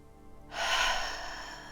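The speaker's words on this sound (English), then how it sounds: "take one final deep breath in" A single deep inhalation, drawn slowly through the body as part of a calming breathing practice, close and soft after a moment of quiet, swelling and then tapering off.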